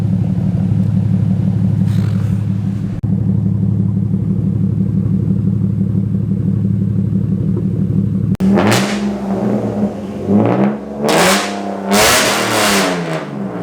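A BMW E36 with a straight-pipe exhaust drones steadily at first, then revs hard in several loud, rising bursts with raspy crackle between them.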